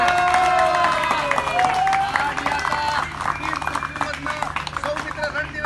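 Crowd applause and cheering on a film set at a Marathi game show where contestants break clay pots, dense clapping with shouts and voices blended in throughout.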